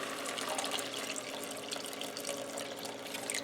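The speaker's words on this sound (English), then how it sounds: "Then I'm going to add some of the water from the beans and the mushrooms." Water drained from cooked beans and mushrooms pours into a pot of chicken juices, a continuous close splashing trickle lasting the whole few seconds, with no voices.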